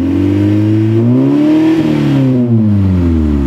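A Toyota Supra with a single-turbo conversion and a new exhaust system revs up loud and close, its engine note climbing, settling back and rising again in a steady sustained drone.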